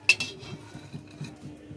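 Fried dried chillies being moved from a pan onto a plate for aloo bhorta, giving a few light clinks of utensil on dish at the start, then soft scraping taps in a quiet kitchen.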